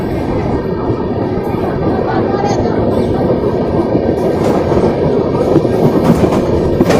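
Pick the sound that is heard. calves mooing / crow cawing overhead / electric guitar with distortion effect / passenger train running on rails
passenger train running on rails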